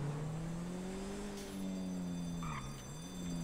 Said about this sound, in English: That man just literally drive off like that?